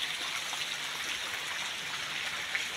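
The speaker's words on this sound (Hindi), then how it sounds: "बारिश आज बहुत ज़्यादा हो रही है इधर" Heavy rain pours down steadily with a continuous hiss of falling drops and flowing water, constant and loud throughout.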